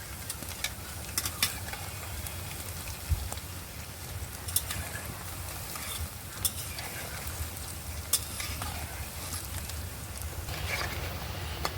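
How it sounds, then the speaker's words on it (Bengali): Roll singara frying in oil over low heat, a steady soft sizzle with occasional light clicks and stirring knocks, fairly quiet and close with no talking. "এবার আমি অল্প আঁচে এগুলো ভালো করে ভেজে নেব"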